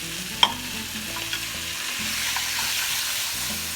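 Tomato sauce is stirred into browned fideo noodles in a pan, giving a steady close sizzle with soft scraping stir strokes and one sharp clink near the start, with no talking.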